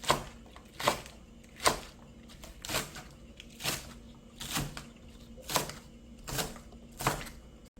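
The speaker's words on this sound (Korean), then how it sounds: "파는 그냥 이렇게 해서 송송 썰어주세요" A knife slicing green onions on a cutting board, about a dozen soft crunchy cuts at an even pace, close and fairly quiet.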